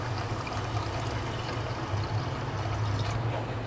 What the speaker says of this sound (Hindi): आधा गिलास के करीब इसमें मैंने पानी डाला है